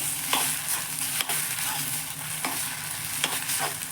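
Egg fried rice ingredients stir-fried over a high flame give a loud, continuous close sizzle, punctuated every second or so by the scrape and clack of a spatula against the pan, with no talk.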